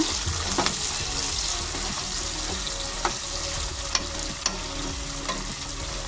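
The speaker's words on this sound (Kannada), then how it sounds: "ಈರುಳ್ಳಿ ಎಲ್ಲ ಫ್ರೈ ಆಗ್ತಾ ಇದೆ" Onions frying in a pan for egg curry, a dense steady sizzle close up with a few sharp spoon taps on the pan scattered through, no voices.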